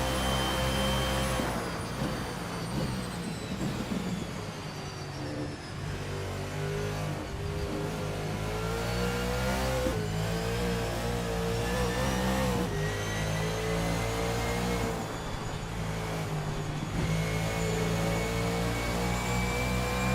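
A 1989 Chevrolet Camaro Z28 IMSA GTO race car engine roars through a turn at Road Atlanta in a racing game, a loud sustained rasp with rising and falling revs and brief lifts between gears, no talking.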